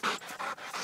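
A dog pants close by in quick, breathy bursts, about four rapid huffs in under a second, with no voices present.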